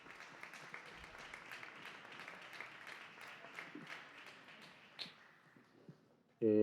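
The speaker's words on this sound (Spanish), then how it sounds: "un aplauso de bienvenida para Daniel Gascón y Nacho Sánchez" An audience at a literary festival in Antequera claps in welcome for the speakers, a soft even patter of many hands that thins and fades out before a voice begins at the very end.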